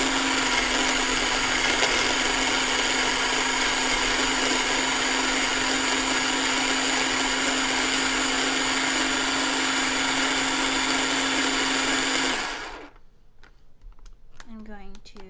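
Countertop blender pulsing kale and other nut-free, dairy-free pesto ingredients, a loud continuous motor whir with a high whine for about twelve seconds before cutting off, then quiet clatter.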